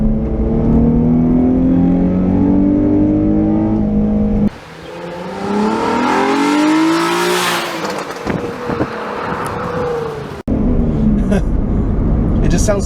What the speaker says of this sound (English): You can just hear it sucking in air, and you can hear the plenum volumizing.